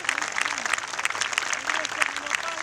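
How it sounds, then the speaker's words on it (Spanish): An audience at a political rally in a park applauds, a dense burst of clapping with a few cheers mixed in, loud and close throughout. "Eso merece ser aplaudido también"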